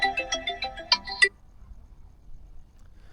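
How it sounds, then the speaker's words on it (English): A mobile phone plays a melodic ringtone, a run of quick bright tones lasting just over a second, then cuts off into near silence. "Sorry, my phone is ringing."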